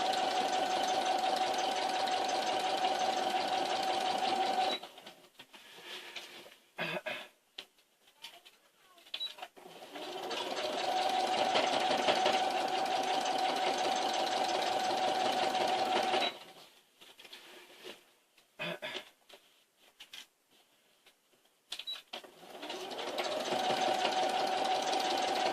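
A sewing machine stitches a quilt in steady, loud whirring runs that start and stop, separated by quieter gaps where a person talks.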